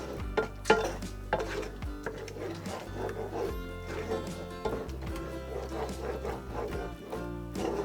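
Sweet and sour chicken being stirred in a pan, with a utensil scraping and clattering against the metal in an irregular rhythm, close up and moderately loud, while a low background hum runs steadily underneath.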